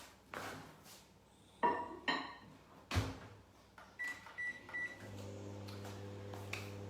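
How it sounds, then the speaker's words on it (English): A quiet kitchen scene with a few clunks and taps, a short beep, then a steady low electrical hum of a microwave oven starting to run. "I'm going to pop this into my microwave for 1 minute 30 seconds"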